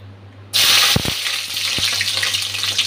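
Garlic drops into hot oil in a pan already holding fried dried chillies and erupts into a sudden loud sizzle, followed by a few sharp knocks of stirring under a steady close frying hiss.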